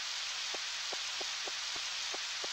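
Rain falls steadily in the Harvest Moon 64 video game, a constant soft hiss with a series of evenly spaced light tapping drops.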